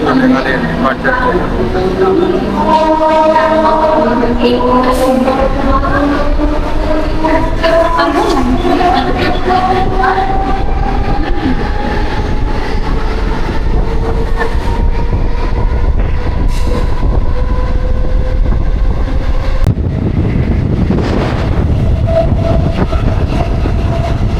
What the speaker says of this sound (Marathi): आता आपण ट्रेन मध्ये बसलेलो आहे